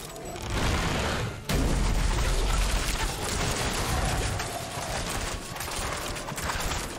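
Dense, continuous barrage of gunfire and blasts in Diablo 4, played as the Rogue, loud and close, with a sharp heavy burst partway through and no talking.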